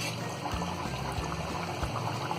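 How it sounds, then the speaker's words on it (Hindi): Small puris for aloo masala puri slip into hot oil and fry, giving a steady, dense sizzle with faint bubbling pops throughout. "तो बड़े सावधानी से हम ये पूरियों को डालेंगे"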